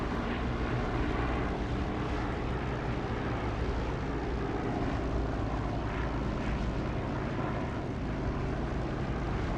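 A fixed-wing aircraft engine in a combat flight simulator game drones steadily and loudly as the plane, gear down, makes its landing approach to the runway, with no one talking.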